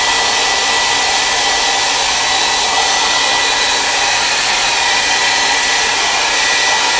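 A hair dryer blows steadily on a watercolor painting of a mantis shrimp during a live art demonstration, a loud continuous airy whoosh with no talk over it.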